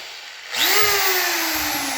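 A small electric drill machine switches on after a brief quiet moment and runs at a steady, loud whirring pitch that sags slightly under load, continuing close by without any talk.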